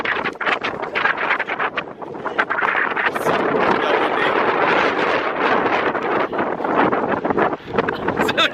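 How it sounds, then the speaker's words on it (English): Strong wind buffets the microphone at Coney Island in Brooklyn on a rainy day, a loud, rough, continuous rumble with gusts, while people talk faintly underneath. "Oh my god, it's so windy"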